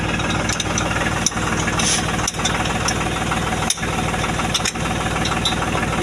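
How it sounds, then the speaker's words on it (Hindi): Farm engine running at idle during field work for wheat seeding, a loud continuous rattling chug with steady knocking vibration and occasional brief dips, close and alone. "ये हमारा इंजन"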